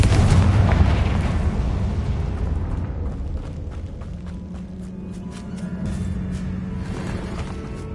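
A Confringo fire spell exploding in the Hogwarts Legacy game, a loud rumbling blast up front that slowly decays into crackling debris and a low humming tone.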